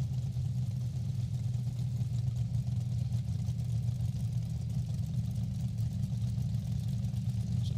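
Top alcohol dragster engines idle and warm up on alcohol before switching to nitro at a drag racing national event, a steady, loud, deep rumble that holds without pause throughout.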